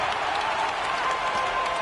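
A virtual arena crowd in the NBA 2K15 basketball video game applauds and cheers after an alley-oop slam, a dense, steady wash of clapping throughout, fairly loud and without distinct voices.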